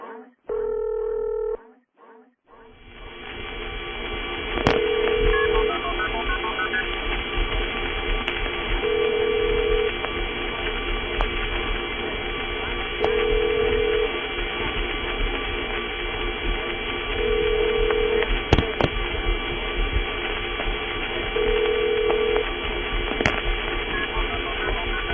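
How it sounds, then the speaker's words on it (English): A repeating two-tone electronic AIS operator ring from a vintage telephone network pulses steadily at regular intervals over a constant hiss of trunk line noise, with occasional faint clicks. "the AIS operator ring."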